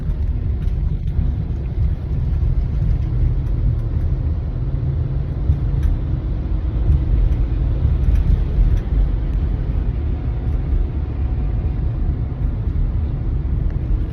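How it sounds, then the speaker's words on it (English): A car drives in highway traffic on the Van Wyck Expressway at night, giving a steady, loud low rumble of engine and road noise that continues throughout with no speech. "So yeah, there's a little bit of traffic on the Van Wyck."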